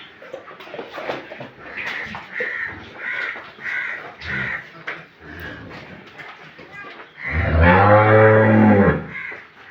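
A dairy cow at a cattle market lets out one loud, drawn-out moo near the end, close by, after steady talk among market chatter and distant calls.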